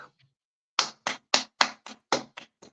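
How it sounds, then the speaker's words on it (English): A handful of sharp, separate hand claps in a quick uneven run, close and fairly loud, following a brief moment of near silence. "Clap for that."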